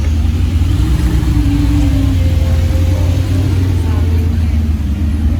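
A Mercedes G 4x4² rolls through Monaco near the Hôtel Hermitage with a steady, heavy low engine rumble, the drone holding at constant strength throughout and no distinct approach or fade.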